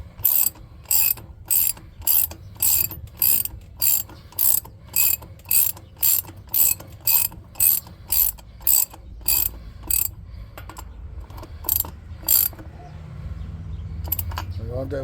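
A go-kart wheel on freshly fitted bearings spins with a rhythmic series of sharp ratcheting clicks at a steady pace, then slows and fades into low background hum.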